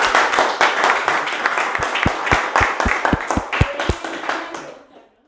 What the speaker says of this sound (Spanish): Un aplauso para el artista.